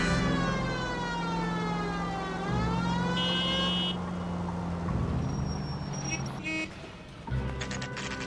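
Police car siren in a video game set in 1947 Los Angeles, a wailing tone that rises and falls with horn toots and engine drone beneath it, loud and sustained throughout.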